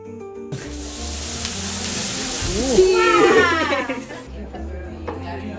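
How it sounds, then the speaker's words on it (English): Duck meat sizzling as it cooks on a hot grill at a Bulgarian restaurant, a steady hiss with a brief louder surge midway and faint chatter around it. "So that is my duck getting cooked."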